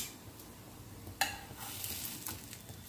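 Beetroot cutlets sizzle quietly in a frying pan, giving a soft, steady crackle. A sharp metallic tap from a utensil stands out partway through.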